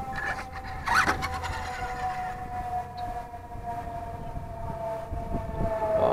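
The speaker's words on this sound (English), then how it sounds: "Oh, fire truck." Fire truck siren passing on a mutual aid run to a structure fire in the next town, wailing tones rising and sweeping over steady road noise, moderately distant and clear throughout.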